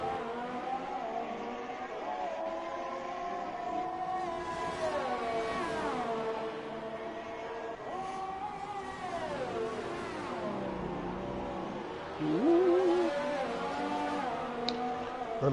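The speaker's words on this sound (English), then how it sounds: "Mama running in the higher ERS mode catches up down the straight, but won't be in DRS this time." F2 race cars from the F1 2018 video game at the Austrian circuit, high whining engines rising and dropping in pitch through gear changes as they accelerate down the straight, a sustained loud layered drone with a fresh surge near the end.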